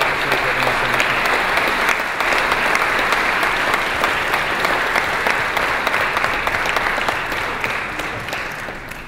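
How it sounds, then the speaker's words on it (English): A convention audience bursts into loud, continuous applause for community supporters, a dense wall of clapping that holds steady for nine seconds before starting to taper off at the end. "Can you guys give them a round of applause"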